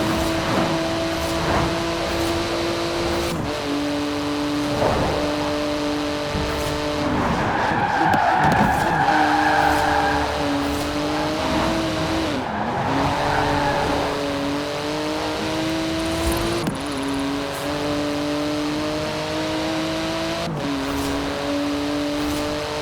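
In the Forza Horizon 4 racing game, a race car's engine revs rise and fall through repeated gear changes, broken by long, loud tire skids and squeals as it slides through corners.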